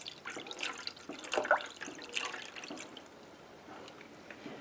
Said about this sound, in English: Now then I'm going to be adding a cup of water to this.